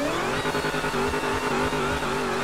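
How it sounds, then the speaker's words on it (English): A Dodge Hellcat's engine revs in GTA 5, a loud sustained droning roar with a steady, slightly wavering pitch, held close and alone. "Let me rev the engine for a bit."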